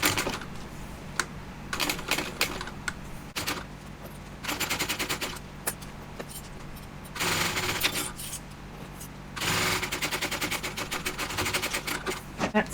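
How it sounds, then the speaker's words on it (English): Sewing machine stitching the base of a handbag, heard as bursts of rapid mechanical clatter that start and stop several times, close and fairly loud, with quiet pauses between runs. "I'm just going to go ahead and sew this base here."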